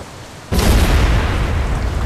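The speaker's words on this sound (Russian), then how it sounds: "Сейчас будет большой-большой бум." In the video game The Saboteur, a tower is blown up: one sudden loud boom after a quiet moment, followed by a sustained heavy roar of the blast and falling debris.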